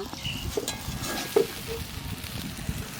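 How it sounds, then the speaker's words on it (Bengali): Vegetables for chachra being stir-fried in spices, a low, close sizzle with scattered clinks and scrapes of stirring, fairly quiet throughout. "এইবার বাজার সবজিটা দিয়ে একটু কষাই নেব"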